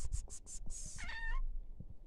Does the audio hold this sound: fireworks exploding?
no